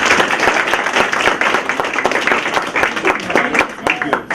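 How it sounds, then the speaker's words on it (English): Loud, sustained applause from a large audience, dense clapping filling the whole stretch. "Please give him a warm round of applause."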